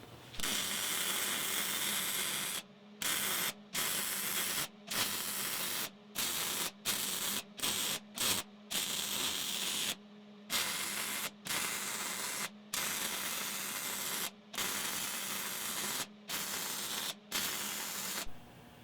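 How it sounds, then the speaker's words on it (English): Welding arc crackling and hissing steadily at close range, broken into many short beads by brief silent gaps when the arc stops and restarts. "I'll leave you with some video of me welding."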